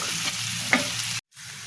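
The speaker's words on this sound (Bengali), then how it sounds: "কখনো কোটো ধরে ঢেলে দিই হ্যাঁ এইভাবে দিই আলুটা ভাজা হোক" Potatoes fry in a pan with fish paste for a simple rohu fish curry, a steady close sizzle with a brief stirring clatter partway through, then cutting out abruptly before the frying hiss resumes.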